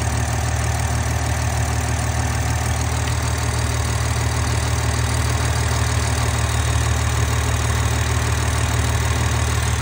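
A Toyota Supra with a B58 engine and big turbo idles steadily, a constant low rumbling drone with a faint high whine that carries through the whole stretch without a break.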